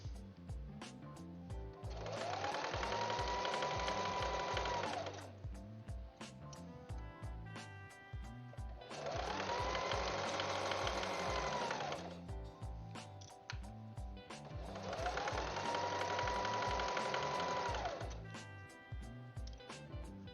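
A sewing machine stitching a quilt runs in three separate bursts of about three seconds each, its motor whirring up to speed and then stopping, with quiet pauses between them.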